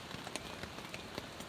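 Rain pouring on a tent during a night camping in the Ozarks mud, a continuous soft hiss of drops with scattered sharper patters tapping the fabric, fairly quiet and even.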